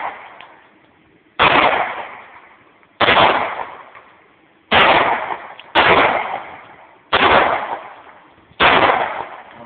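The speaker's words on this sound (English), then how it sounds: "Want a couple shots, Jerry?" Six loud, sharp handgun shots from a .40 S&W pistol fired outdoors, spaced roughly one to one and a half seconds apart, each followed by a short echoing decay.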